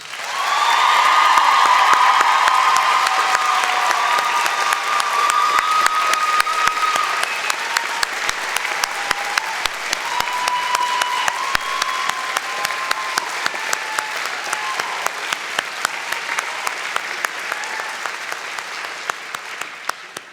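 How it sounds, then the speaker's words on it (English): Graduates at a spring convocation ceremony give a long round of applause with some cheering, the crowd clapping loudly at first and then settling into a steady, slightly thinner patter that continues to the end. "Graduates, a round of applause."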